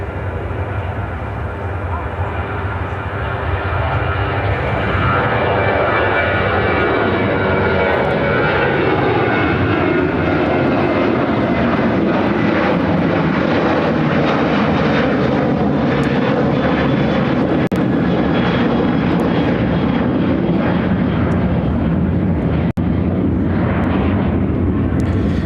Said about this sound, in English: United Airlines 342 taking off to Omaha on the 737-800